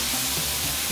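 Sauce hits a hot pan of browned beef for bistek tagalog, making a loud, steady, close sizzle and hiss that runs continuously without a break.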